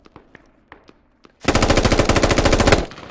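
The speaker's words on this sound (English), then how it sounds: "That shot came from behind the hill." Gunfire in the video game Squad: a few scattered single shots, then a loud sustained burst of rapid automatic fire lasting over a second before cutting off.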